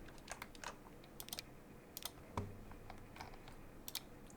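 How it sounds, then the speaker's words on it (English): Fast keys clatter on a computer keyboard in irregular short bursts, crisp and close, while a Transport Fever 2 session runs with a low background hum and no voices. "Helps if I can type."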